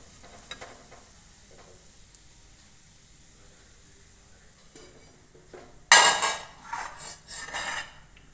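Onion bhajiya fritters lifted from hot frying oil with a slotted spoon, with clinking metal and a burst of crackling sizzle in the last few seconds after a quiet start.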